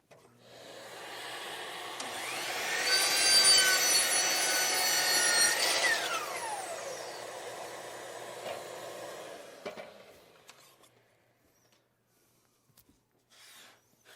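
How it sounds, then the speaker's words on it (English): Power saw making a 45-degree miter cut across the end of a wooden board: a whine ramps up and holds for several seconds with the blade biting the wood, then spins down, leaving a few faint clicks near the end. "miter cut on the end of this board"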